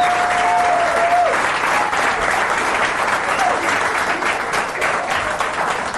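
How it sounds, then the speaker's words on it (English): A studio audience gives Dick Butkus loud, sustained applause, a dense wash of clapping at steady volume with a faint voice briefly audible near the start. "I haven't heard such loud applause for you since you won that one game in 1969"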